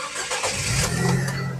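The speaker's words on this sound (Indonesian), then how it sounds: "Oke, sekarang kita coba start mobil ya." A 2011 Nissan Grand Livina 1.5 XV automatic cranks and its engine catches, the starter's churn rising into a low running rumble, close and loud with no talk over it.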